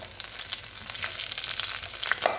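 Red lentil fritters, made without gram flour and seasoned only with salt and turmeric, sizzle steadily in hot oil, a continuous crackling hiss with occasional sharper pops.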